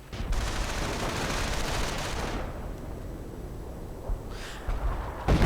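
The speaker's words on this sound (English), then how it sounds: "But more artillery from the 2 howitzers." Artillery fire from two howitzers in a strategy video game rolls out as a dense, loud, continuous barrage of overlapping booms and crackles, easing slightly before a few sharper blasts near the end.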